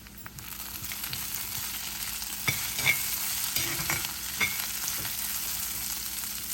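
Finely chopped garlic frying in oil, a continuous even hiss of sizzling with a few soft spoon scrapes and taps of stirring, steady and close without any voices.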